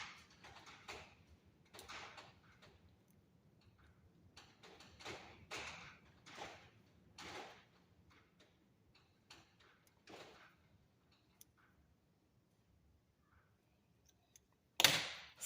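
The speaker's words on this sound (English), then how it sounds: "you're going to hear the garage door rattling in the wind." Garage door rattling in gusts of wind, a series of irregular metallic knocks and rattles spread through a quiet space, fairly faint and intermittent, with one sharp louder clatter near the end.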